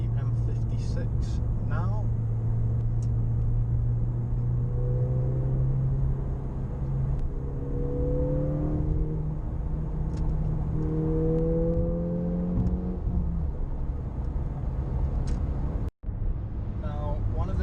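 Heard from inside a car joining the M56 motorway, a steady engine drone climbs in pitch through several gear changes as it accelerates, with continuous road rumble throughout.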